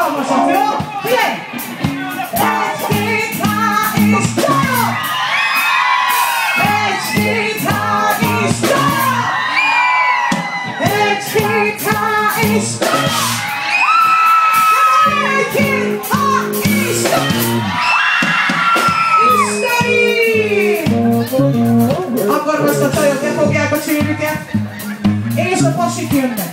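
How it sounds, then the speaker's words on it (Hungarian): At an outdoor concert in Újpalota, a crowd of girls screams loudly on cue for a pop singer, sustained high shrieks and whoops rising and falling for over twenty seconds. "a csajok visítanak egy hatalmasat"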